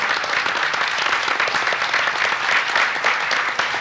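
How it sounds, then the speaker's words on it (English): An audience gives a big round of applause to city staff at a historic preservation workshop, dense steady clapping with no voices. "Would you folks stand up so we can give you a big round of applause?"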